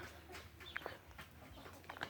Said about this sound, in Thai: เอาอาหารมาให้ไก่